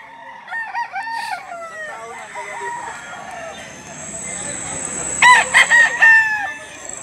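A rooster crows loudly amid scattered clucking chickens at a livestock auction market in Lipa, Batangas, with someone talking and calling in the background.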